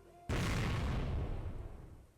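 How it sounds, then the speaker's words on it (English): A loud explosion blasts a hole through a door in the Higurashi When They Cry visual novel game, a sudden booming burst after quiet that rolls on and slowly fades. "a loud explosion punched a hole in the door the size of a fist"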